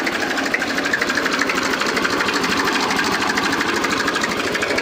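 Massey Ferguson 1035 tractor, second hand, its engine running close and loud with a fast even knock that stays steady throughout.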